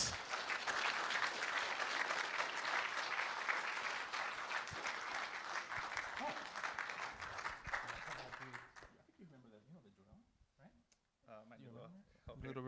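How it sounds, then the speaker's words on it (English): An audience at a programming conference in Seattle applauds, a dense roll of clapping for about eight seconds that fades out, followed by a few scattered claps, clicks and faint talk. "Round of applause."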